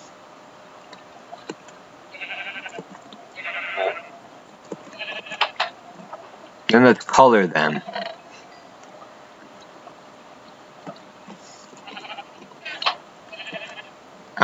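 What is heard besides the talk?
sheep bleating in Minecraft video game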